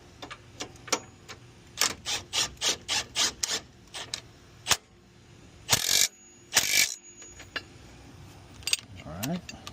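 A power tool reassembles the rear axle of a Ford Explorer ST with a DSS axle, firing in quick repeated bursts, then two longer, louder whirs, with clicks and handling noise between them.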